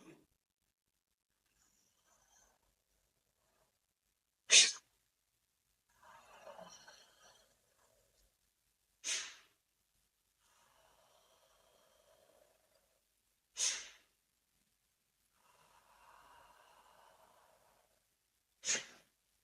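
Forced sneezes during a Sneezing Buddha breathing meditation: four sharp, explosive bursts spaced about every four to five seconds, each followed by softer, rustling breaths in an otherwise quiet room.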